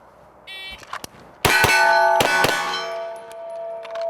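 Pistol rounds strike steel targets downrange, giving two bright metallic clangs that ring on and fade slowly, preceded by a few softer clicks and pops, with no speech.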